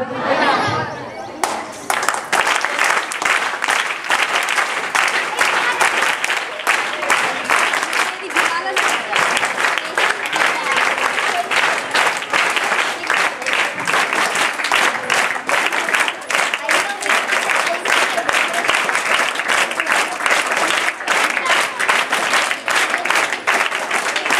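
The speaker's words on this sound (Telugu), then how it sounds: "చెప్పానా చప్పట్లు కొట్టమని?" A roomful of schoolchildren claps for a long stretch, with many quick overlapping claps going on throughout. Voices and chatter can be heard beneath the applause.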